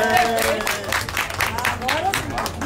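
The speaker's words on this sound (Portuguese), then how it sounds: "Salva de palmas aí." An outdoor gathering in Garanhuns breaks into a steady round of hand clapping after a mayor is praised, with bursts of applause rising and falling under someone speaking loudly over it.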